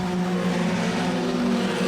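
Junior sedan race cars roar steadily past at a distance down the back straight at Rockhampton Speedway, a continuous droning engine hum with no breaks, loud and sustained.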